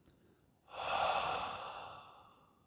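A long, soft breath is blown out on an 'A' during a hatha yoga posture, swelling in after a short pause and then slowly tapering off, close and breathy with no words.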